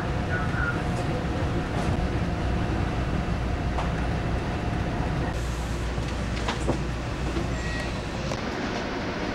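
Steady rumble of a train carriage in motion, with rattling and faint clicks throughout, while muffled voices come and go in the background.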